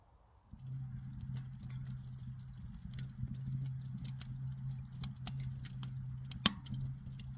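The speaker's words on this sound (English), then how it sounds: "So that's that rain on that I was sort of talking about earlier on." Rain pattering steadily on the canvas of a OneTigris Iron Wall hot tent during a solo overnight camp, heard from inside as a dense, continuous patter with scattered sharper drips and one louder tap, over a low steady hum.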